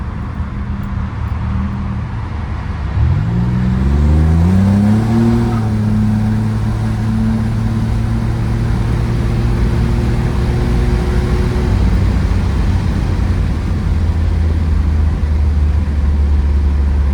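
A 1985 Buick Grand National on a test drive is heard from inside as its engine climbs from low rumble into a rising rev, settles into a steady cruising drone, then eases to a lower hum, loud and close throughout.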